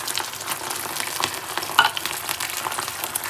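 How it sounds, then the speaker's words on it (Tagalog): Onions sizzling as they fry in a pan during Filipino home cooking, with a steady close crackle and hiss and a brief clink partway through, with no talking. "naglagay na po ako ng sibuyas sa pan"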